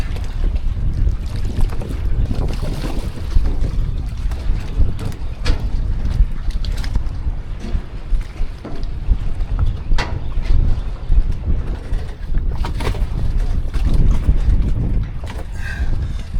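Strong wind roars and buffets the microphone in uneven gusts, with a low rumble over open water throughout.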